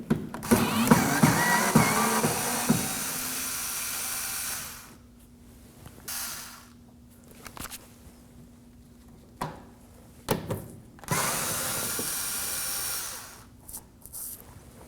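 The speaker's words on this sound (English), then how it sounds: "we're going to be removing these 3 Phillips screw heads. In this case, I'm using an electric screwdriver." An electric screwdriver backs Phillips screws out of the front fender well of a 2014–2020 Acura MDX, with a loud continuous whir followed by several shorter bursts separated by quiet gaps, close by and with no talking.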